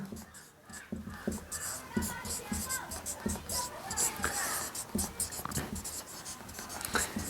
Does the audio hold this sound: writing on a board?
yes